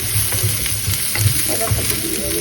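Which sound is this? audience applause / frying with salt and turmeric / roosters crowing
frying with salt and turmeric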